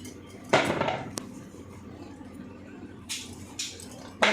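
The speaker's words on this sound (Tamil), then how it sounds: "கொஞ்சம் கொஞ்சமாக தோல் நீக்கிட்டு நம்ம வந்து கட் பண்ணி எடுக்க போகிறோம்." Tapioca root being peeled and chopped into small pieces in a home kitchen, with a few sharp knife knocks and scraping bursts against a board spread over a quiet background.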